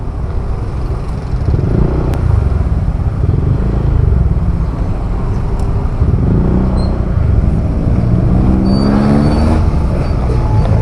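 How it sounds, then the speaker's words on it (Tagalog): Road traffic on a highway near a bridge in Lumban, Laguna, heard from inside a van: a continuous, fairly loud rumble of passing cars and motorcycles with engine drone and tire noise, no talk. "Medyo traffic lang mga kabiyahe"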